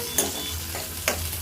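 Curry leaves fry in a pan for a semiya upma, giving a steady close sizzle broken by two sharp stirring scrapes of a spoon.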